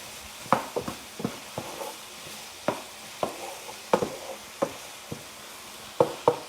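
A spoon stirs brown-sugar-and-spice-seasoned pork chops in a sizzling pan, with scattered clanks and scrapes against the metal over a low steady hiss, close and alone.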